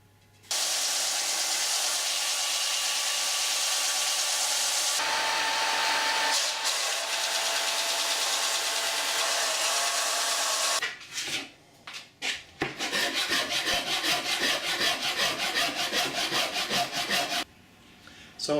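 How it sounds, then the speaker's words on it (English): A belt sander drones steadily on a 12-string guitar neck for about ten seconds, then stops; after a short pause, rapid rhythmic rasp strokes from a Shinto rasp or spindle sander follow, loud and close. "after a bit of work with my belt sander, the Shinto rasp and my spindle sander as well"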